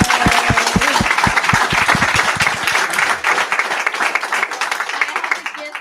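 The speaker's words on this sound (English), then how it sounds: "Can we give them another round of applause?" An audience at a Women's Day event breaks into loud, close applause for the speakers, with many hands clapping in a dense, continuous burst that tapers off toward the end, with some overlapping voices.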